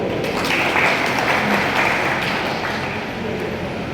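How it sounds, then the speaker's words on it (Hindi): An audience of BJP party workers claps at a Petlawad assembly meeting in Jhabua, giving steady, dense applause that continues through the whole stretch with a loud crowd wash behind it. "मैं नाम ले रहा हूं तो जरा उनके लिए थोड़ी ताली बजाओ।"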